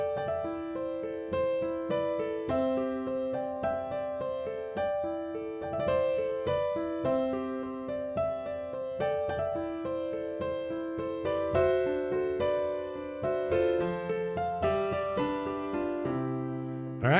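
Solo piano plays the intro of a song at a gentle, steady pace, with broken chords, a melody line on top and sustained bass notes, quiet and clear with no talk.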